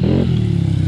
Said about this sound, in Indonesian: Motor Supra juga ini, mesin Supra guys.